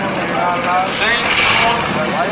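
A mud bogging truck engine roars steadily at a muddy track event, its rough, loud note swelling as the back wheels spin and spray, with crowd voices mixed in.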